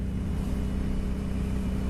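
An Aprilia Dorsoduro 900 motorcycle engine runs at a steady, loud drone while being ridden, with a dense low rumble and wind noise throughout and no speech.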